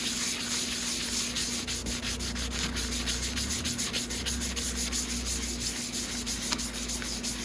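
A motorcycle part from a Venom 250cc Villain chopper is hand-sanded with fine 180 to 200 grit sandpaper, a continuous close scratchy rubbing in rapid even strokes, with no voices over it.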